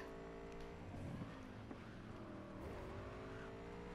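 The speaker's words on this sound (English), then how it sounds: "Let's have a nice drive, yeah." Car driving in the video game Cyberpunk 2077 on a base PS4, a steady engine drone with shifting revs and a pitch swing near the end, continuous and fairly quiet with no talk.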